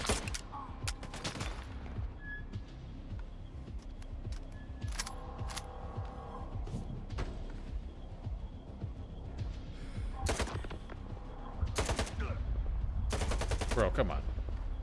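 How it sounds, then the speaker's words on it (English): Gunfire and grenade blasts fill a firefight in the video game STALKER 2: sharp, loud bursts of shots and heavier booms break out repeatedly over a rumbling background, with a voice talking at times. "I don't think I've played any FPS that has had this many grenades in a firefight"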